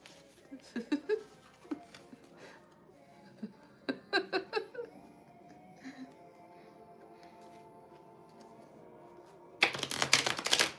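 Tarot cards being shuffled during a live reading, with scattered papery clicks and riffles in short bursts and a louder flurry of shuffling at the end, with occasional quiet talk in between.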